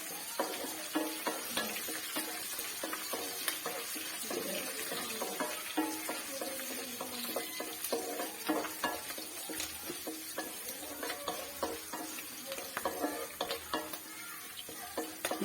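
Curry leaves sizzle and crackle in hot oil for a star fruit pickle, a soft continuous frying hiss with frequent popping and stirring scrapes, close but fairly quiet, with no one talking.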